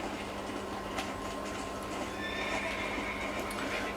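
In the Red Dead Redemption video game, a horse clip-clops steadily through open wilderness and gives a clear whinny, with the hoofbeats continuing over a constant ambient hum.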